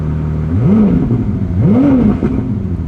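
A Ferrari 296 GTS engine fires up close and loud, then rises in two quick revs with a steady idle between and after them, and no talk over it.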